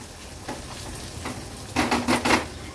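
Softened onion is stirred in a pan on the stove, soft scrapes at first, then a burst of rhythmic, louder scraping and sizzling strokes toward the end, close by.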